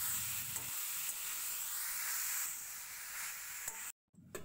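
Chicken mince stirred into hot spiced oil in a pan gives a steady close sizzle and hiss with scraping stirs, broken by a brief silence near the end, with no talking.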